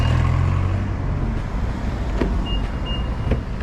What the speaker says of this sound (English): There's a lot of cars coming through.